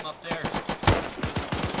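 Bursts of machine gun fire in a World War II squad-based video game battle against British commandos, a loud rapid rattle of shots with a heavy blast near the middle, players' voices faintly in the mix.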